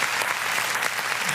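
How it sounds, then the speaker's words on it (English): A small group in a podcast studio claps in a quick, continuous patter, loud and close, for just over a second. "Let me get my hand claps in for him."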